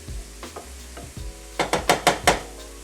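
Vegetables cooking in a pan for a quiche are stirred with a utensil: a few soft scrapes at first, then five loud, rhythmic scraping strokes in quick succession against a faint sizzle, close up and with no voices.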